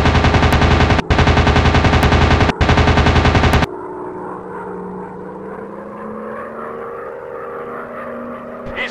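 Rapid machine-gun fire from an enemy WW2 warplane in a mobile dogfight game: a loud, dense burst of automatic shots with two short breaks. It cuts off into a steady engine drone that carries on alone.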